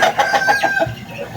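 Chickens clucking close by in quick, choppy bursts, with a rooster's crow threading through the noisy flock.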